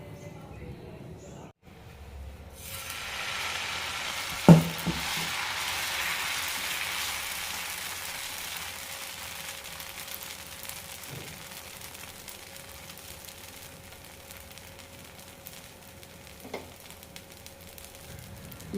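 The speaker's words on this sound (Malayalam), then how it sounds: "ഇനി നമുക്ക് ദോശ ഉണ്ടാക്കിയെടുക്കാം" Dosa batter for a masala roast hits a hot pan and bursts into a broad, crackling sizzle after a quiet start, settling into a steady frying hiss broken by a few sharp clicks.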